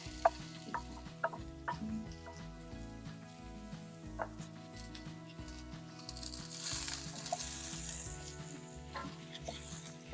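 Onions sizzling and frying in a cast iron potjie over a wood fire, a steady close crackle with occasional sharper pops and light scraping, no voices.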